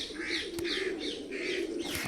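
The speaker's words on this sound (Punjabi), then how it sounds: "ਹੁਣ ਆਪਣਾ ਮਿੱਤਰੋ ਕੱਲਾ ਭੂਰਾ ਕਬੂਤਰ ਉੜਦਾ" A lone brown pigeon's wings flap in steady, soft beats, with light cooing and chirps from other birds nearby in an outdoor setting.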